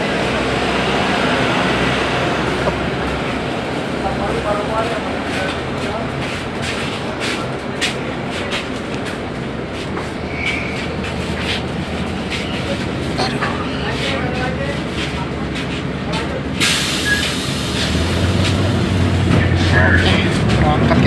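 A TransJakarta Koridor 14A bus pulls away from Monas, a continuous loud rumble of engine and cabin noise with rattles and air-conditioning hum, growing heavier toward the end, with people talking aboard.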